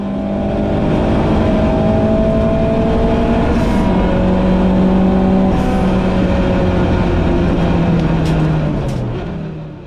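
Dozens of club race cars at Silverstone GP circuit, including a BMW and a white Honda Civic, roar in a steady, loud pack, engine notes layering and shifting as they accelerate together with no talk.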